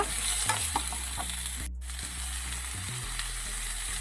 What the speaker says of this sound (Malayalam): ഇത് നന്നായിട്ടൊന്ന് വഴറ്റി കൊടുക്കുക